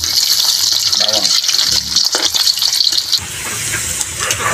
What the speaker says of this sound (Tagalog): magpiprito na po tayo